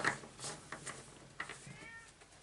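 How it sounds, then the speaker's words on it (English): A cat cries from behind a closed door, a few short plaintive meows scattered over a couple of seconds, faint and somewhat muffled against a quiet room. "my cat is crying behind that door"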